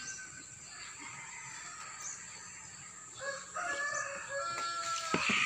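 A rooster crows nearby, its call rising clearly toward the end over a quiet background of faint insect and outdoor noise.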